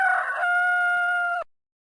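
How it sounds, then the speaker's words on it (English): A rooster crows once, a loud close cock-a-doodle-doo that rises and then holds a long, steady note before cutting off abruptly. "rooster,"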